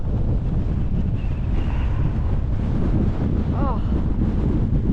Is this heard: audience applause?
no